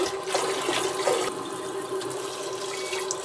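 Water being poured off rinsed quinoa in a sink, a steady running, splashing stream heard close and fairly loud throughout, with no talking.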